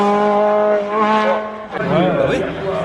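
A race car climbs past at the Teurses Hébécrevon hill climb, its engine whine bending in pitch as it passes close by. The pitch drops sharply at a gear change, and voices talk over the sound.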